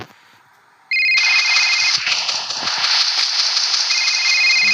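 A phone rings in the Rope Hero video game, a loud electronic ringtone that cuts in abruptly after a near-silent moment and repeats steadily to the end.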